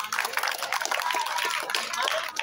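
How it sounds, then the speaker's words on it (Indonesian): Hands clap at a football club anniversary event in a stadium, a brief scattered round of applause from a small crowd for a guest, fairly close, with a voice talking over it. "tepuk tangan dong buat Pak Cito"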